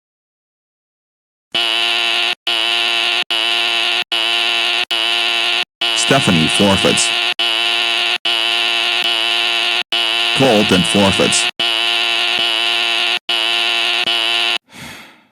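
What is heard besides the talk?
game show buzzers being pressed repeatedly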